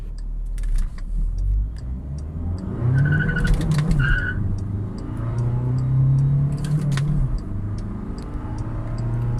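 Remapped ten-year-old Skoda Laura 1.9 TDI diesel launching hard with wheelspin, a loud near engine note climbing in pitch with brief tyre chirps and squeal over steady drivetrain rumble.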